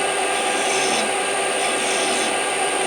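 A tool scrapes steadily inside a metal coolant hose fitting to deburr it, a continuous loud hissing rasp close up with no pauses or voices.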